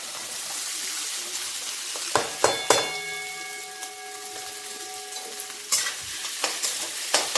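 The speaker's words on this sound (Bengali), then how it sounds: "বাদাম ভাজার পর যে তেলটা রয়েছে তার মধ্যে দিয়ে দেব ছোট ছোট ডুমো ডুমো করে কাটা আলুগুলো।" Small diced potatoes frying in peanut oil left over from frying peanuts, a steady crackling sizzle broken by sharp stirring clatters and scrapes in the pan, close and without voices.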